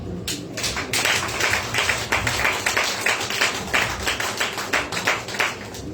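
Church congregation clapping together to acclaim the Lord, steady rhythmic claps repeating for several seconds, fairly close and alone with no talk.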